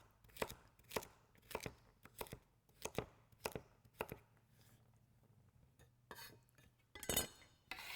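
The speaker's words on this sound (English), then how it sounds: "just cut them into pieces about the same size as your celery" A knife chops vegetables on a cutting board for homemade vegetable beef soup, about a dozen sharp, evenly paced thuds close by, pausing briefly before a final louder cluster of chops.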